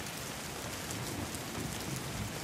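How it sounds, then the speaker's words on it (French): Steady rain falling on a surface, a dense even patter with no talking, moderately quiet throughout. "La pluie, bien que tiède, me cinglait."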